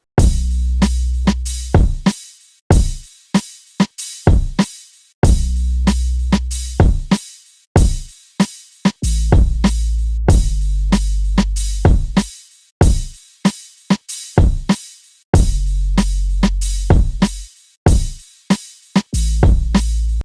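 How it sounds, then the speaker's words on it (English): A full programmed hip-hop drum loop plays with a snare, ticking hi-hats and deep sustained 808 bass booms in a steady repeating pattern, loud and punchy, with no voices. "So now with all the drums together, they sound like this."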